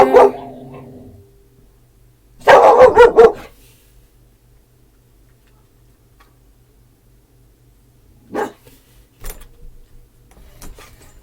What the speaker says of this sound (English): What are you even barking at?